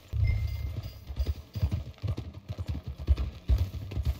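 Horse hooves clip-clopping at a steady riding pace in the western video game Red Dead Redemption 2, a continuous rhythmic patter close by with no talk.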